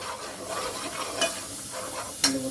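Kolhapuri mutton masala frying in a little oil while a spoon stirs it, a soft continuous sizzle with scraping strokes and one sharp clink near the end.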